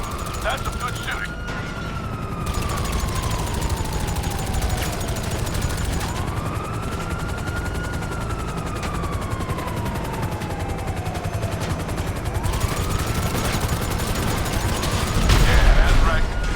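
Dense automatic gunfire rattles continuously in GTA Online during the Kortz Center heist, with rising and falling police sirens wailing over the barrage and a loud burst near the end.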